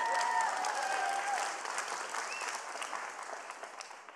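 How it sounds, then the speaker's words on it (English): Church congregation applauding during a Sunday morning sermon, a steady wash of clapping that starts fairly strong and slowly thins over about four seconds, with a faint voice briefly audible near the start. "now you can clap about that."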